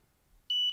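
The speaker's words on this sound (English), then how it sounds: "I've now put that to beep speed level 2, and you can see that's just hitting, it's going into that warble there" A Delkim bite alarm set to speed level 2 gives a single high, steady beep starting halfway through, short and clear over near silence.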